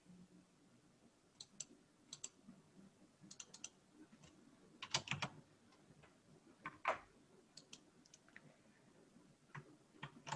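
Computer keyboard keys and a mouse tap and click while editing in PowerDirector software, scattered light clicks in irregular bursts, faint and close in a quiet room.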